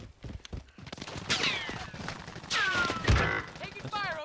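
Bursts of gunfire and crashing impacts in a trio squads battle royale match, loud and close, overlapping with excited voices talking over the action.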